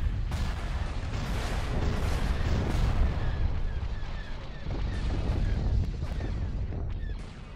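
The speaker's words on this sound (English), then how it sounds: "I want to hear that Mandalorian turbo laser sound firing" Heavy, booming turbolaser fire from Mandalorian capital ships in the Age of the Republic space battle game rumbles continuously, dense overlapping blasts and explosions filling the scene, with a voice faintly beneath.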